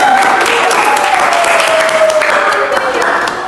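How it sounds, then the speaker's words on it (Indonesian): Students clap together in a classroom, a steady, dense burst of applause lasting several seconds at close range, with a voice faintly audible underneath. "Oke, bagus. Tepuk dong."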